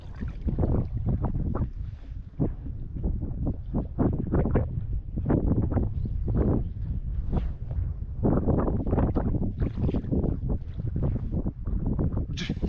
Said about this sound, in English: I'm just floating and letting the wind take me down.